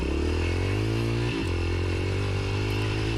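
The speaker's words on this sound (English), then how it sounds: "You can hear him rev out here. He hits the rev limiter." A motorcycle ahead on a farm scrubs ride revs hard and bounces off its rev limiter, a loud, steady engine drone with a brief stutter midway, heard from close behind, likely over the rider's own 40-year-old Yamaha XT 500.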